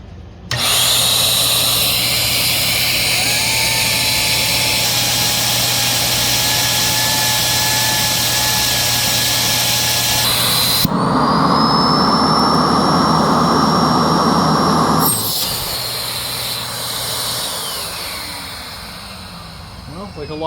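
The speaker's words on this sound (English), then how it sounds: "Like a lot of those higher speed motors, it does have a lot of suction to it." A Prolux 2.0 bagless backpack vacuum, a high-speed motor, runs loud and steady with a high whine, shifting pitch and airflow as the intake is opened and blocked partway through.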